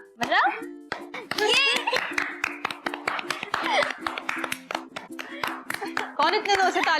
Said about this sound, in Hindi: कौन इतने जोर से तालियां बजा रहा है?